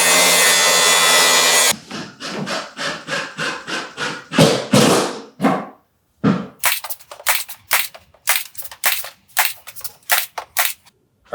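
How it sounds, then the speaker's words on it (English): A power saw makes repeated short cuts through wood trim pieces for wainscoting, each a sharp burst separated by brief pauses, after a steady whine at the start, loud and close. "I'm gonna go cut a top piece and a bottom piece for all of these panels"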